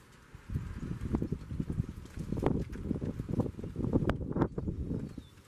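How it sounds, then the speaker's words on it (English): Rain begins falling during a windy thunderstorm outdoors, with close, dense irregular drop impacts pattering against the mic over low wind rumble. "Oh, it's starting to rain."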